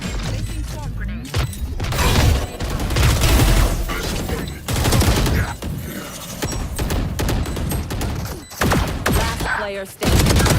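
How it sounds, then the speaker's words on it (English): A swarm grenade in the shooter Valorant goes off in a dense, continuous burst of rapid popping and crackling impacts with metallic mechanical clatter, loud and close, under intermittent voice lines. "Placing swarm grenade."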